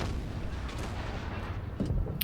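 A tank's main gun fires once in a tank battle video game, a heavy boom rising out of steady engine rumble near the end.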